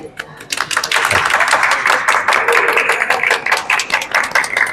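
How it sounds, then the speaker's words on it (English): An audience at a talk about script producing claps, a dense, loud and steady wash of applause that swells quickly and holds throughout. "Applause,"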